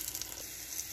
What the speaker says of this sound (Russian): И дожариваем все остальные баклажаны.